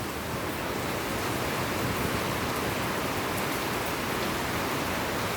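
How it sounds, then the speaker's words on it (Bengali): Rain falls steadily at dawn, a dense, even hiss of water that holds at the same loudness throughout with no breaks. "কতটা বৃষ্টি হচ্ছে বাবু"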